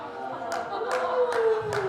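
Applause from a stand-up comedy audience at UCB, a steady patter of clapping hands lasting under two seconds with a few sharper bursts, fairly close and moderately loud.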